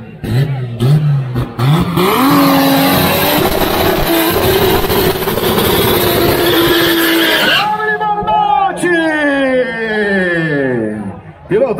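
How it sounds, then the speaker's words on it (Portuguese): An Opala race car with a six-cylinder turbo engine roars at full throttle at Interlagos, a loud sustained engine howl with tire squeal, then rising and falling gear-change revs as it pulls away. "Esse Opala aqui, 6 cilindros turbo."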